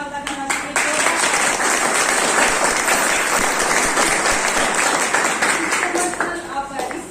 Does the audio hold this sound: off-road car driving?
no